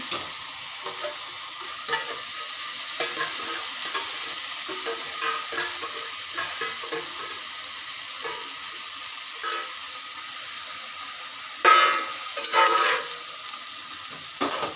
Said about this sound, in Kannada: ಈಗ ಇದಕ್ಕೆ ಬೆಂದಿರೋ ಹೆಸರು ಬೇಳೆನ ಹಾಕ್ತಾಯಿದ್ದೀನಿ